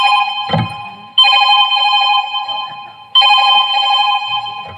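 A mobile phone ringtone plays close and loud in three repeating bursts. Each burst is a bright electronic melody, and a short rustle comes before the second.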